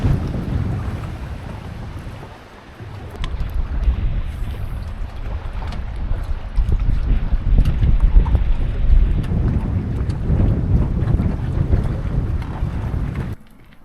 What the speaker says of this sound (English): It was very cold and windy.